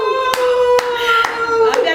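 Scattered hand claps from an audience at a live Congolese music event, four or five separate slaps spaced unevenly over a sustained musical tone, fairly close and loud.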